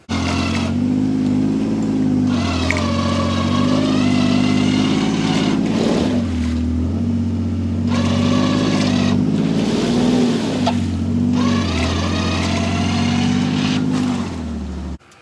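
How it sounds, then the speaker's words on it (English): Electric winch on a Kawasaki Pro FXT Ranch Edition Mule, a steady loud motor whine with a droning hum, running in long pulls that stop and restart twice, close up with the engine idling. "This is our winch. So down would be in, and then up would be out."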